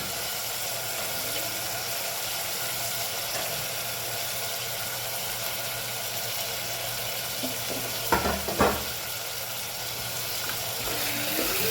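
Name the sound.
vegetables added and stirred into masala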